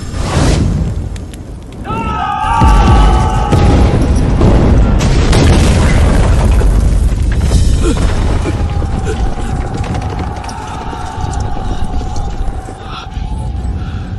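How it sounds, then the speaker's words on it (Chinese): A gunpowder magazine blows up in a battle scene, setting off a battery of cannons: a loud, sustained roaring boom that rumbles for many seconds, with mechanical rattling and a faint tonal whine over it, no talk. "火药库炸了，连带着把炮阵也炸了！"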